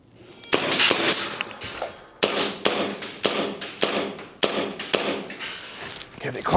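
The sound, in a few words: Tokyo Marui airsoft pistol firing at targets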